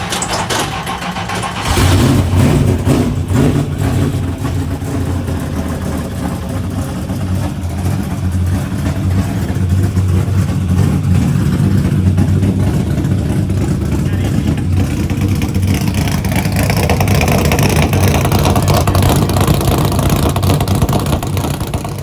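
Brad Keselowski's 2011 Penske Dodge Charger NASCAR stock car engine cranks briefly, then fires up and runs at a loud, close, rumbling idle that stays steady and throbbing throughout.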